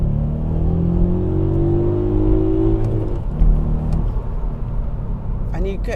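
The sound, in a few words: VW Up GTI engine revving, accelerating in second gear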